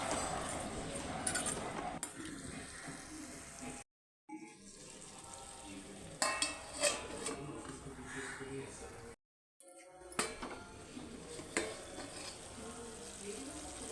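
Paneer curry is stirred in a pan with scraping and soft sizzling, and a lid is set on with brief clatters. Someone talks over the cooking, and there are two short silent gaps.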